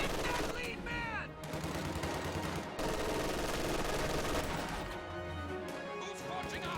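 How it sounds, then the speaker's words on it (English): An MG42 machine gun fires out of a building in a video game battle, loud sustained bursts layered with other gunfire and crashing combat noise, with a voice briefly heard over the din. "MG42 firing out of the building"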